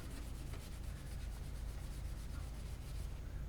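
Acetone-soaked textured cloth rubbing against a Cascade lacrosse helmet, a steady close scraping and swishing friction that runs continuously and evenly without pause.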